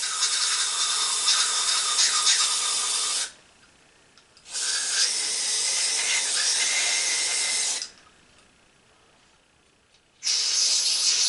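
Aerosol carb cleaner sprayed into a Tecumseh small-engine carburetor over a garbage can. Three long, loud, close hissing bursts, each a few seconds long, are separated by short quiet gaps.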